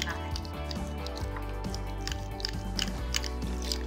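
Butter cream with water churned by hand in a pot using a wooden churner, giving a steady wet sloshing and squishing with soft rhythmic drips under a continuous background hum.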